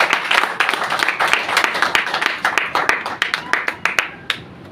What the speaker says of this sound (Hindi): विश्वास करने वाले ताली बजाकर